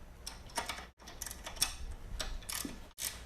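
A 9/16 ratchet wrench loosening bolts on a printing press during assembly and leveling: quiet, irregular ticking clicks of the ratchet mechanism with brief pauses, close but faint.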